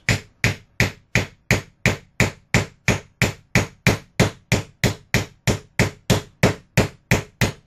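Steady, evenly spaced hammer blows driving a nail, about three per second, sharp and close, continuing in a regular rhythm with nothing else heard.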